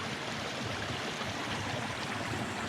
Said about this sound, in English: Little tiny waterfall.